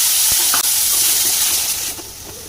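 Tomatoes sizzle in hot oil in a pan as cooking for an egg gravy, a loud, steady hiss that carries on throughout and eases off slightly near the end.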